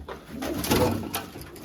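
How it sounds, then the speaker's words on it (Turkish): Red Arab breed pigeons coo softly in a loft, a low throaty rolling coo close by with faint background noise. "Kızıl Araplar dediğimiz kuşlar arkadaşlar."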